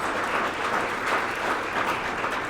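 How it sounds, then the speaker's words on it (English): Steady applause from an audience at an annual association meeting, a dense even wash of clapping that holds at a constant level for a few seconds with no speech over it. "Please join me in a round of applause."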